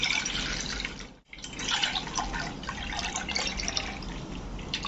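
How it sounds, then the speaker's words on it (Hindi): Full cream milk, four cups, pouring steadily into a vessel in a home kitchen, a continuous close liquid trickle with one brief break, no talking. "देखिए यहाँ पर मैंने दूध डाल दिया।"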